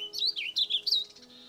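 Warbling vireo singing a short, quick, rambling warble of rising and falling chirped notes, faint and distant, heard alone for under two seconds.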